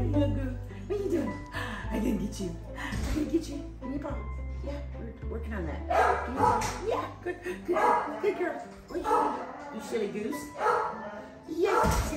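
A small dog yips and barks in short, sharp bursts, close by, while people talk over and around it.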